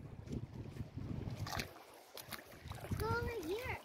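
Feet splash and wade through the clean, shallow water of a small beach-like river during whitewater exploring, with irregular close splashes and voices in the background.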